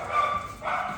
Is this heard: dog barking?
yes